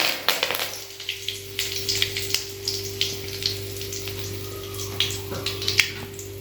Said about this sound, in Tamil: கடுகு பொரிஞ்சிருச்சு. இப்போ கொஞ்சம் கருவேப்பிலை.